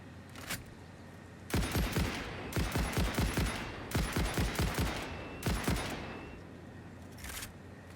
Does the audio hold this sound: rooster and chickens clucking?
no